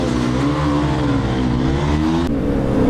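A KTM RC200 motorcycle accelerates hard in a drag race, its loud, close engine note climbing steadily as it pulls through the gears, with a brief break in the sound near the end.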